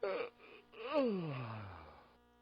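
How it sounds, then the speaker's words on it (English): A single drawn-out yawn from a person on a morning radio show, rising then sliding down into a long fading exhale, close and fairly quiet. "See, now you made me yawn."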